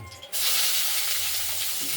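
Pieces of ridge gourd drop into hot oil in a wok and start sizzling loudly; the frying burst begins abruptly after a quiet moment and holds steady.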